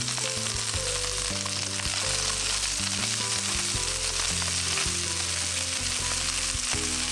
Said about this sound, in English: Now it's time to add the green beans into a single layer in the pan.